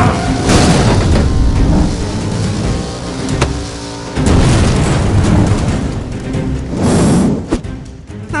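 Cartoon bombs go off in an animated scene: several loud, close booms arrive one after another, each with a rumbling roar that swells and fades, and no one speaks over them.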